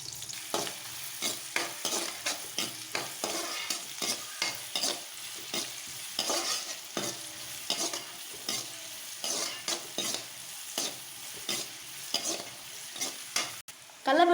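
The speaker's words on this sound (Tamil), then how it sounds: "சின்ன வெங்காயம் போட்டுக்கலாம்." Shallots fry in oil in a kadai under a steady sizzle, while a spatula stirs in quick, regular strokes that clink against the metal all the way through, with no voices.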